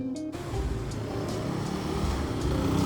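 A 250cc naked motorcycle engine pulls hard in first gear, a loud continuous roar building steadily after a brief gap at the start.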